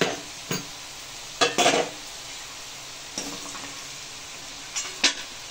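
Fried potatoes lifted from hot oil with a metal utensil, several sharp scraping clinks against the pan in separate bursts over a faint, quiet sizzle.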